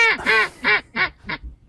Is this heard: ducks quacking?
yes